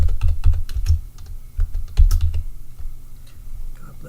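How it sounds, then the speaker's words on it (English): Computer keyboard typing: bursts of quick, uneven keystrokes close by with short pauses between runs, fading to lighter tapping toward the end, with no voices. "I'm just going to type in a message."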